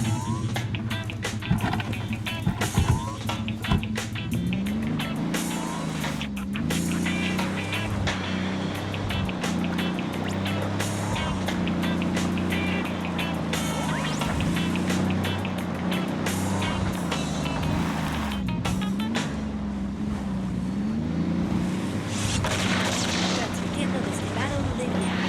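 A vehicle drives steadily in Ghost Recon Wildlands, its engine drone continuous and fairly loud for the whole stretch, with a shifting pitch and clatter on top.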